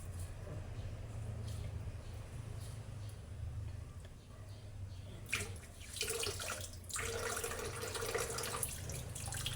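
Moringa leaves and other vegetables, stems included, being washed in water in a sink, with a steady running-tap hiss and sloshing splashes that grow louder partway through.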